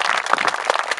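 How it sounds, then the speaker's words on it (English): Audience applause for veterans, firefighters and police officers at a Veterans Day event: a dense burst of many hands clapping, fairly loud and close, filling the whole short moment without talk. "let's give a round of applause"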